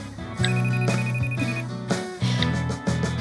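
A mobile phone rings with an incoming call, playing a loud, close, melodic ringtone of repeating tonal notes in a steady looping pattern, with no voices.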